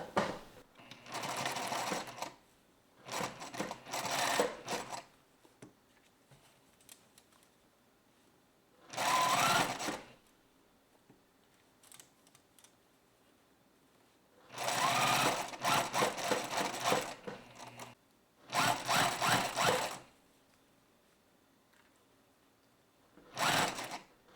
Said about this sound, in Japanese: バイアステープの端から5ミリで縫っていきます。